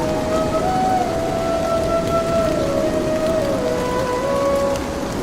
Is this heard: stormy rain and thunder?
yes